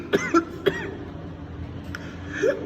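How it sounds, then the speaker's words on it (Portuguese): A man lecturing on vehicle tax coughs several times in quick bursts, close and fairly loud, followed by a quieter throat-clearing rasp against a low background hum. "uma tosse aqui"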